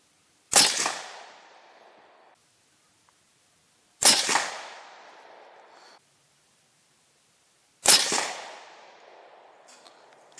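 A CVA Cascade XT rifle fires three evenly spaced shots, each a sharp loud crack trailing into a short decaying echo, with quiet pauses between them.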